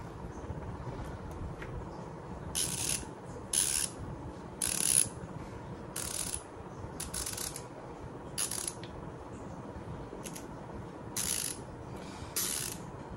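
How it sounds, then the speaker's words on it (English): A Vessel TD-6808TX ratchet screwdriver clicks in about ten short, crisp bursts of rapid ratcheting, close and clear over a quiet background, with pauses between each turn. "The main important is the ratchet mechanism."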